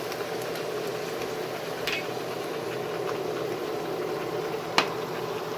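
Vegetables steam in a pan with a little water, a steady close hiss and low bubbling that carries on evenly, broken by a single sharp tap near the end.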